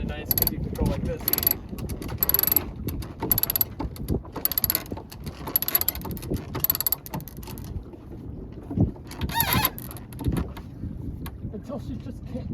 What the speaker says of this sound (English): Grab one of our winch wrenches here.